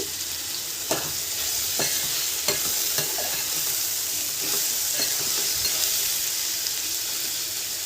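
Onions, dried fish, dried prawns and tomato fry in a pan for a drumstick curry, giving a steady close hiss and sizzle with a few sharp scraping stirs spaced every second or so.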